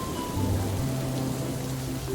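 Cartoon rain and thunder effect: a dense, steady wash of rainfall with a low rumble underneath, heard alone for a couple of seconds.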